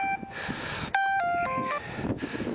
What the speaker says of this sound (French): Là, vous pouvez en direct entendre le téléphone sonner.